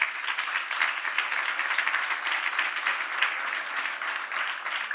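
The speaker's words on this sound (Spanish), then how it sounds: "Un aplauso al Señor." Steady applause from a church congregation honoring the Lord during a teaching on Saint Philip, a dense, even wash of clapping lasting throughout at moderate distance.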